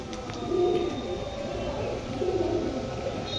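A Nila Kamakar male pigeon cooing in a loft, two low rolling coos a couple of seconds apart, close and moderately loud over a steady background hum, with no talk.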